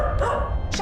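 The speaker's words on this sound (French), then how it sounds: "Fais taire ton chien, sinon tu vas voir." A dog barks in a house: a couple of quick, loud, close barks packed into under a second, with a yelping edge and no voices.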